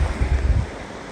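A river rushing past a campsite in Parque Arví, Colombia, a close, steady low roar of flowing water with some wind buffeting the microphone, no voices.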